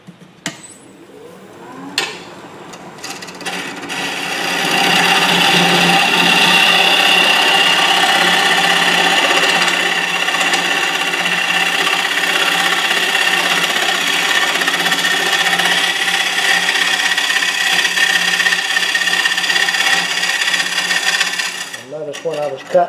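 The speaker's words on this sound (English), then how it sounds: "Notice when I was cutting, it sounded like it was kind of scraping." A turning tool scraping a natural edge wooden bowl spinning on a lathe, a loud steady grinding rasp that runs continuously for most of the span after a brief startup, alone with no voices.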